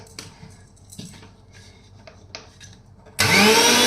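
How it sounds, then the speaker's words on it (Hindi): A kitchen mixer grinder suddenly starts up, loud and close, whirring as it grinds ingredients for pani puri water, after a few seconds of quiet kitchen clatter and handling noises. "अब मैं इसको पीसूंगी, पीस करके छानूंगी और हमारा जो पानी पूरी का पानी है वो हो जाएगा तैयार।"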